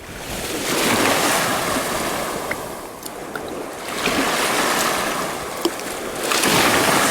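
Strong wind at a lakeshore at Vermillion Point, with loud buffeting gusts on the microphone and waves washing in behind, swelling and easing in long surges, no voices.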